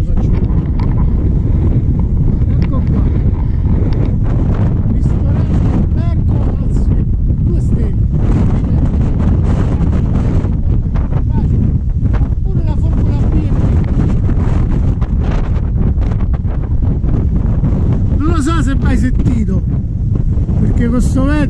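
Heavy, constant wind buffeting the microphone for the whole stretch, a loud low rumble with gusty fluctuations and occasional faint voices beneath it.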